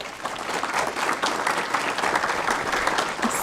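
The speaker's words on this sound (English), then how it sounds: "Please give Mrs. Daphne Brown a round of applause" A school board meeting audience claps steadily in a sustained round of applause for a staff member, dense and even from start to finish with no voices over it.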